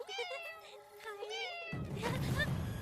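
A cat meows repeatedly in a Hindi-dubbed action film scene, its rising and falling cries loud and close, followed by a burst of rough noise near the end.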